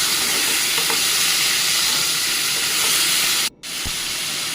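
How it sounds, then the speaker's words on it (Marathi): Onion and tomato sauté in a hot tempering with asafoetida for a cluster bean bhaji, a steady dense sizzle and hiss close by with no talk, broken by one brief drop near the end. "आणि आता मी ह्यामध्ये कांदा आणि टोमॅटो चांगला परतून घेणार आहे."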